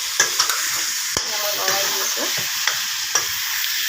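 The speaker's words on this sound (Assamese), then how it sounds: "তেনেকৈ এয়া মই লৰাই দি আছোঁ" Meat and potatoes with garam masala frying in a pan, stirred steadily: repeated spoon scrapes and taps sit over a constant close sizzle of hot oil.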